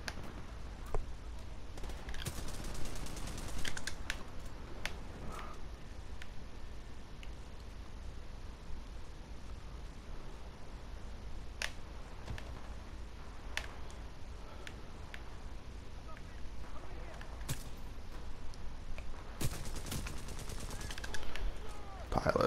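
Gunfire in Titanfall 2 multiplayer arrives as scattered sharp shots and a few quick bursts over a steady background bed, some clustered and loud, others sparse and spread out, with occasional talk mixed in.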